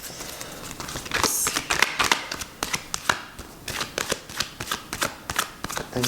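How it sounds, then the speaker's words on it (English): A deck of tarot cards is shuffled close up, giving a steady run of quick riffling snaps and soft papery flutters with no talking. "I'm sorry if I'm shuffling too loud or too long, you guys."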